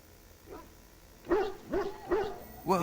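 Dog barking in the video game Dragon Age: Origins, a faint yelp followed by three louder, evenly spaced barks and the start of a fourth, close and clear over a low background hum.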